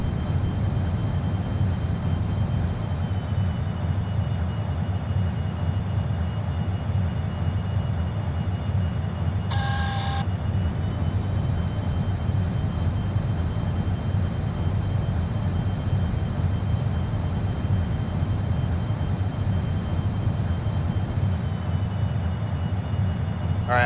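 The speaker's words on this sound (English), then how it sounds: "I'm going to cut off the scramjets now" Delta Glider scramjet engines in the Orbiter 2016 flight simulator give a steady, unbroken roaring rumble throughout, with a brief electronic tone cutting in near the middle and no voices.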